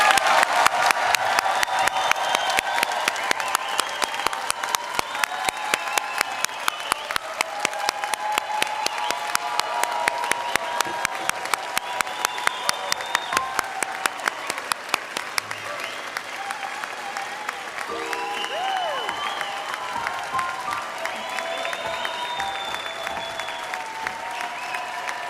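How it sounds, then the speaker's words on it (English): Prolonged applause from a large crowd for the graduating class of 2024 at the Emily Carr University convocation, with rapid rhythmic clapping, a few cheers and whoops, fading slightly toward the end. "join me in a round of applause for the graduating"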